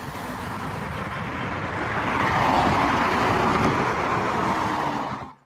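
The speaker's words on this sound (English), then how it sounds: "I think my car's just making too much noise." A car's road and engine noise hums steadily from inside the cabin while driving, a broad continuous rumble that swells slightly midway and then cuts off, with no talking.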